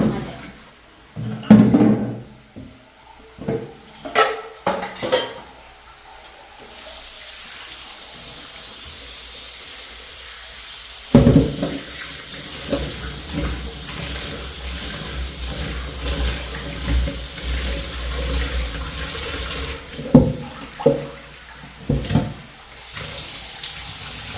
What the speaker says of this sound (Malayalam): ഇനി ഇവരെ നമുക്ക് നല്ലപോലെ ഒന്ന് കഴുകിയിട്ട് രണ്ട് പ്രാവശ്യം കഴുകാം